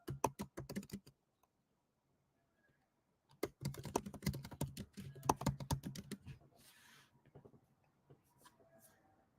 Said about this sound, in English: I'll type the answer for number 2